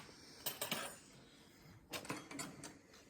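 A spoon clinks against dishes in two short bursts of light metallic taps, close by but quiet, with near-silence between them.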